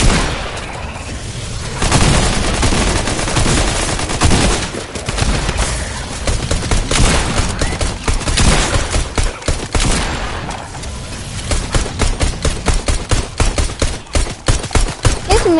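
Rocket launcher fire and a car exploding in a video game, heard as dense, loud bursts of gunfire and booming blasts that continue almost without pause, ending in a rapid rattling volley.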